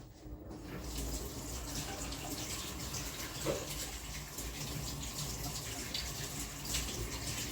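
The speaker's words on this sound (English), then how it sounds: "Go wash my fingers." Tap water runs steadily into a sink while dry-dye residue is washed off fingers, a continuous close splashing rush lasting throughout with no talk.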